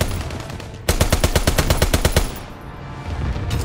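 Aircraft strafing run in Call of Duty: WWII multiplayer, a loud rapid burst of machine-gun fire lasting over a second, then a lull and a faint return of gunfire at the end.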